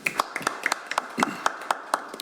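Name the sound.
audience applauding at a policy forum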